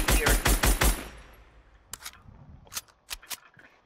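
A Fortnite weapon fired repeatedly: a rapid burst of about six loud, close shots up front, then a few sharper, scattered shots trailing off at lower level, with no talking.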